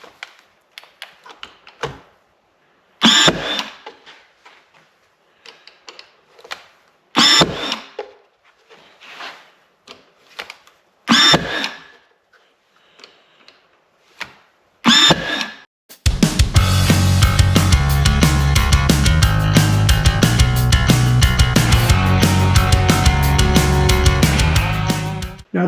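Several sharp, separate pneumatic nail-gun shots drive 2-inch nails into the wooden trim of a DIY flower box, spaced apart with quiet gaps between them. Loud, dense music then takes over.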